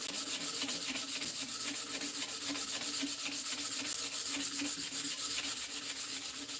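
Sanding the top surface of a wooden mallet by hand, a rhythmic back-and-forth rasping scrub repeated in quick even strokes, close and continuous.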